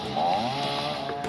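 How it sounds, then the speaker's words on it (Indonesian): Chainsaw cutting up the trunk of a fallen tree that landed on a parked car, a steady droning whine with slight pitch wavering, continuous and moderately loud at middle distance, no talking. "gergaji mesin"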